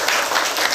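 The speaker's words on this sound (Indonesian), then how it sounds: "Tepuk tangan dulu." Brief burst of school audience clapping at an Indonesian elementary school gathering, a short dense patter of many hands with no voices.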